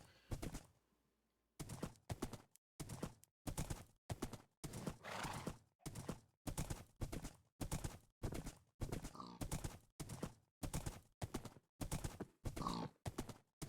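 Horse hooves clip-clop in a video game, a long steady run of evenly spaced hoofbeats after a short pause, clear and fairly loud, with no talking.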